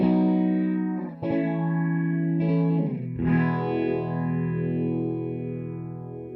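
An electric guitar rings out sustained chords through a digital Boss phaser plugin, with a sweeping, swirling phaser effect that slowly rises and falls.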